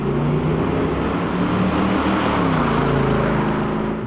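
A Mercedes CLK 63 with a 500-horsepower 6.2-liter V8 drives through empty city streets, its engine a loud, close, continuous rumble with slowly shifting pitch over steady road noise.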